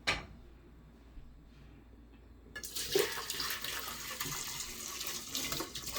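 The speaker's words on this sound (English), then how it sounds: "I'm going to pour my beans in here" Wet beans pour into a rice cooker pot with a steady splashing rush that starts abruptly partway through and continues to the end, after a quiet start.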